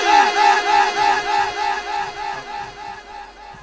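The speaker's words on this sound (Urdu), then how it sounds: "نعرہ حیدری!" A large crowd chants a religious slogan in unison, a loud rhythmic repeated shout rising and falling about twice a second, gradually fading toward the end.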